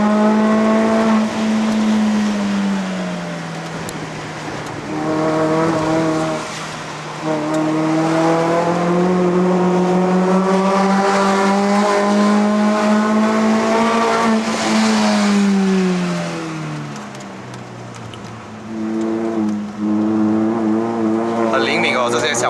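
A Suzuki Swift Sport ZC32S with a 1.6L engine and six-speed manual climbs a mountain road to Genting in Malaysia, its engine droning loud and continuous, pitch rising and falling through revs and gear changes, with a person talking inside the cabin.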